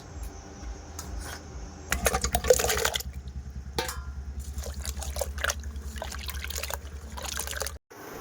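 Water is poured from a vessel into a cooking pot of okra set to boil, producing a steady close trickle and splash over a low background hum, ending abruptly.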